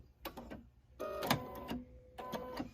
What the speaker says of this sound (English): My machine cuts my threads for me.